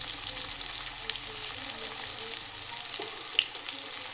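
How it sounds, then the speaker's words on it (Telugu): Chopped onions frying in a pan for an egg fry, giving a bright, steady crackling sizzle up close with occasional soft stirring scrapes and a single small pop near the end. "ఇలా కట్ చేసుకున్నటువంటి ఆనియన్స్ని ఇందులో వేసుకోవాలి. వేసి ఫ్రై చేసుకోవాలి."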